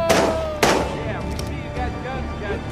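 Gunshots in the Days Gone video game, two loud sharp blasts about half a second apart with another near the end, ringing over a busy game soundscape with faint tonal music.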